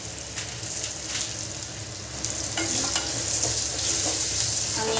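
A breakfast mixture stirred and sautéed in a pan, steady sizzling with scraping stirs repeating close up, no voices.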